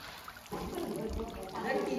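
Water is poured over a stone Nandi idol at the Shri Palpeshwar temple near Wai, Satara, a steady close splashing and trickling that starts abruptly and runs on, swelling louder near the end.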